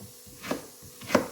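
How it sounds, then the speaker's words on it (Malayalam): A knife chops ginger and small shallots on a board for a tomato buttermilk curry, giving two crisp, close chops about half a second apart. "ഇഞ്ചി പിന്നെ അതും ചെറുതായിട്ടൊന്ന് കട്ട് ചെയ്യുക"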